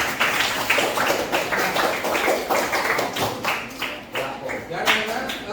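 Students in a classroom clap together, a loud burst of fast, uneven hand claps that keeps going throughout, close to the microphone.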